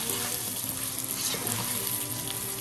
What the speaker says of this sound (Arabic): بس الرز بالزيت عشان يطلع معانا مفلفل وحلو. نقلبهم كام تقليبه كده مع بعض